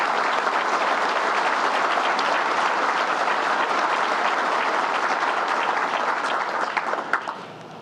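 Sustained, dense applause from a luncheon audience at a Long Island Association event, loud and steady throughout before thinning slightly near the end.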